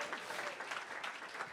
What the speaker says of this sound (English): Clap if you have kids.